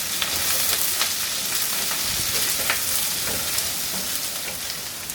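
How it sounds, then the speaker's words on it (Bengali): About half a cup of chopped onion with chopped green chilli fries over high heat for a chal kumra dish, giving a loud, dense, unbroken sizzle with faint stirring ticks throughout and no speech. "আমি কিন্তু হাই হিটে ভাজতেছি যাতে পেঁয়াজের গায়ে পেঁয়াজটা একদম গলে না যায়"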